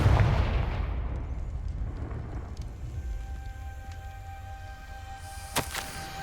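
Confringo blasting spell explosion in Hogwarts Legacy, set in Salazar Slytherin's scriptorium: a loud deep boom at the start that decays into a long rumbling tail, with a sharp crack later on.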